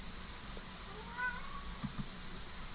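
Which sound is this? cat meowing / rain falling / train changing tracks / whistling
cat meowing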